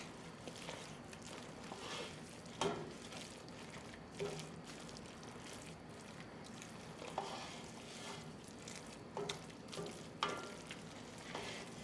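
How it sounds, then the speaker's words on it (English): Shrimp risotto being stirred in a pan: a soft, steady sizzle with scraping, and occasional louder clacks and sloshes of the spoon working through the rice, close and fairly quiet. "Toss that all in. Give that a stir."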